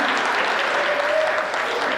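An audience at a Hindi comedy poetry gathering claps in a dense, even burst of applause, close and sustained for a couple of seconds.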